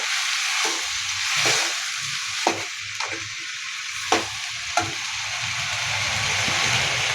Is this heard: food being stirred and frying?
yes